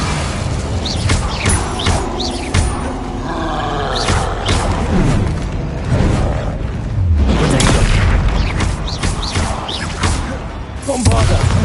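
Bombarda spell explosions and combat effects in Hogwarts Legacy, a loud dense mix of booming blasts and crashes repeating through the fight, with game sounds layered over them.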